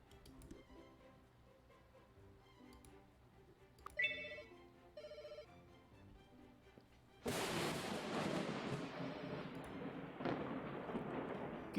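Telephone ringing inside a video game, a short run of bright repeated rings near the start, then swamped by a loud sustained roar of stormy thunder and rumble that fills the rest of the clip.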